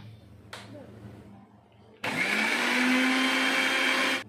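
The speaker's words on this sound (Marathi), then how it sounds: "अशा पद्धतीनं साय फेटून घ्यायची आहे." A kitchen blender whipping milk cream for karanji filling starts up after a quiet moment and runs loud and steady with a high motor whine that stays constant to the end.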